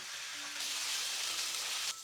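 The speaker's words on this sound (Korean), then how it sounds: "감자가 노릇해질 때까지 볶아주시면 됩니다" Potatoes stir-fry in cooking oil for a potato and zucchini stew, giving a close, steady hiss of sizzling that swells slightly midway and drops off sharply at the end.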